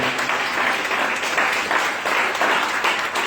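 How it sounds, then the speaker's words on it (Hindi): A church congregation at a Sunday service breaks into sustained, lively applause, many hands clapping together in a full, steady roar that continues throughout without talk. "एक जोरदार ताली से प्रभु की महिमा करो।"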